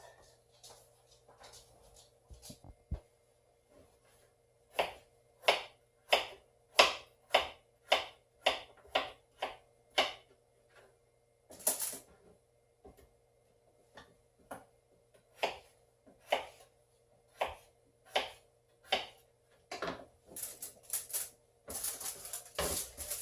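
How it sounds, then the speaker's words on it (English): A knife slicing potatoes and carrots on a board, a steady run of crisp, close chopping taps in quick regular bursts with short pauses between, fairly quiet and with no talking. "So I'm just going to slice them up and put it into the foil and bake it with my roast."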